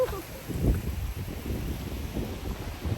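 Wind gusts buffeting the microphone outdoors on an overcast, cloudy day near a garden, a steady low rumble that swells and eases over a few seconds, with a brief voice heard.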